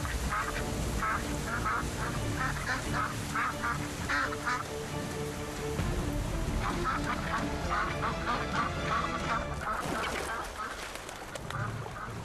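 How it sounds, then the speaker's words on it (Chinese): Female ducks quack and honk loudly in a continuous, jostling chorus while fighting over ducklings, with bursts of overlapping calls close by and no speech. "雌鸭之间会为了抢夺孩子而争斗"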